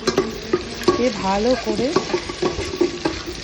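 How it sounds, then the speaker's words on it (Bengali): Chopped ginger and green chilli frying in oil, a steady sizzle broken by repeated scrapes and clacks of a utensil stirring the pan, with a voice briefly speaking over the cooking. "ভালো করে এটা তেলের সাথে ভালো করে ভাজতে হবে"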